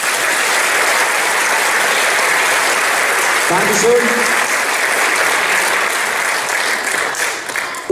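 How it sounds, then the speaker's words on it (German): Audience applause for staff members at a talk, dense and loud, sustained throughout; a voice briefly speaks near the end. "Da bitte jetzt wirklich einen Applaus"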